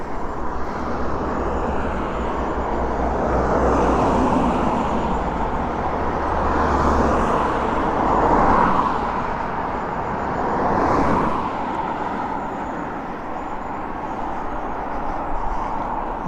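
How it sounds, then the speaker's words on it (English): Road traffic on a quiet Sunday evening, heard from a bike near Victoria Park: a steady engine rumble with several cars swelling and fading as they pass, fairly loud and free of talk. "Sunday evening the traffic's nice and quiet at least."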